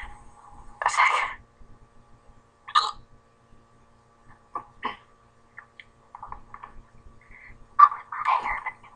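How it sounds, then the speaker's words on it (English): A child's hiccups, several sharp, abrupt gulps spaced irregularly with near-silent gaps between them, close and fairly loud, with faint whispery sounds in the pauses. "These hiccups are annoying as"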